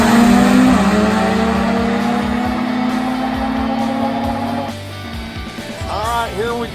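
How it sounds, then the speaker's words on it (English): A Top Fuel drag bike engine runs during testing at the track, a loud steady droning roar that later turns uneven and bursty, with speech present in the clip. "Here testing Sam Wills' Top Fuel bike"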